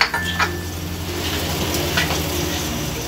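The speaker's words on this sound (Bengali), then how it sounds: "এই মাছটা একটু ছিটে, যে কারণে আমি একটু ঢাকনা দিয়ে ঢেকে দিলাম" Pabda fish frying in soybean oil under a lid, a steady close sizzle with crackling spatter bursts throughout.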